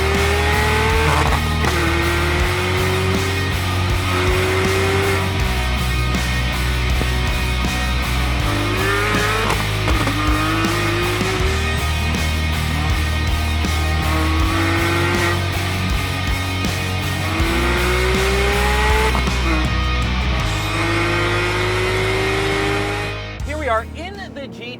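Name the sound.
Porsche 991 GT3 engine revving while driving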